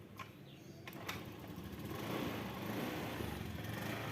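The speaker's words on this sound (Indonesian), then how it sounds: "Coba kita engkol." A Honda Beat scooter with a dead electrical system and starter is kick-started, then its small engine settles into a steady, fairly loud idle that runs on alone after a few sharp clicks.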